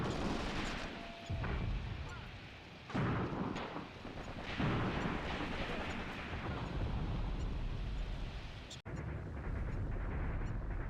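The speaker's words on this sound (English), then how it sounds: "we see that our artillery's still at work out here in the open field" Soviet WW2 artillery firing in a video game battle, repeated heavy booms and rumbling blasts with scattered gunshots across an open field, loud and continuous.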